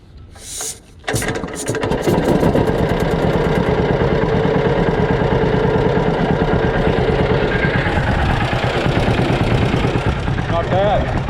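A John Deere B tractor engine cranks with the choke on, catches after a second and settles into a loud, steady two-cylinder idle with a rhythmic putter that runs to the end.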